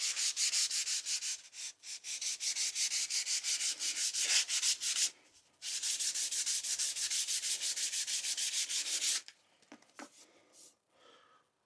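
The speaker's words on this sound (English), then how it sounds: "Give the handle a bit of a light sand while I'm at it." A wooden tack hammer handle is lightly hand-sanded in quick, rhythmic back-and-forth strokes, two sustained bursts separated by a short pause, soft and close, ending with a few scattered handling sounds.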